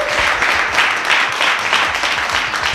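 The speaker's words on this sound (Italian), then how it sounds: "Allora, salutiamo i nostri amici con un grosso applauso." A studio audience on a 1983 Italian television show applauds loudly and continuously, with slight surging bursts in the crowd's clapping.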